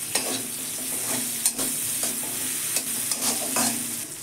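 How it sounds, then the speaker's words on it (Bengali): Chopped onion with nigella seeds and asafoetida frying in oil in a wok, a continuous close sizzle broken by repeated scraping stirs of a spatula, with no voices. "কড়াতে তেল দিলাম, কালো জিরে দিলাম, হিং দিলাম, একটা পেঁয়াজ ছোট ছোট করে কেটেছি দিয়ে দিলাম"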